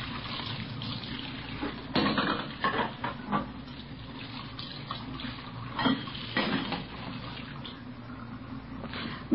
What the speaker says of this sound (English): We found her in the kitchen washing dishes.